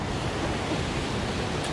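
Ocean surf at Red Rocks Reserve, New Zealand, rolls as a steady, dense roar of breaking waves that fills the whole moment, with wind-like hiss and no speech.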